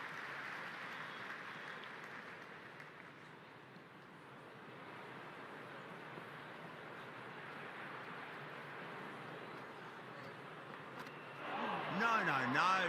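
Steady stadium crowd roar and applause in the Cricket 26 video game during an India vs New Zealand T20 match, a broad sustained wash of cheering with a commentator's voice rising over it near the end.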